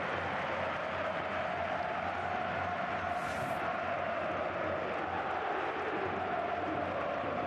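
A packed stadium crowd at a Real Madrid vs Barcelona football match, 2017: a dense, steady roar of voices and chanting that holds without letup, with a brief whistle-like swell in the middle.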